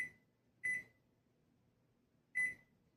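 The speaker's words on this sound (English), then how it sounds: "Kitchen timer." A kitchen timer gives two sharp electronic beeps, about two seconds apart, in a quiet room.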